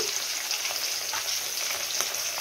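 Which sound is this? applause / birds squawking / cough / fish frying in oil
fish frying in oil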